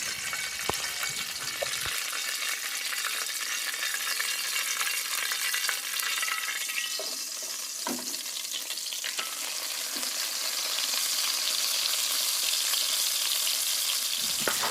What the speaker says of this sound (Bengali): তেল গরম হয়ে গেছে, এখন মাছগুলো দিয়ে দিচ্ছি।